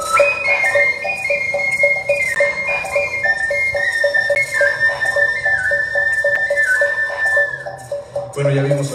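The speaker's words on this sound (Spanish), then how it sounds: "ya vimos ahorita en ejecución algunos flautas o silbatos" Wind instruments with blown mouthpieces, flutes or whistles, played in a museum night event setting, a sustained wavering whistle-like melody over a steady pulsing accompaniment, fairly loud and continuous with some talk in the background.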